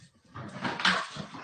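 A dog performing a trick gives a drawn-out, strained whimpering yelp, close and fairly loud, rising to a peak midway before trailing off.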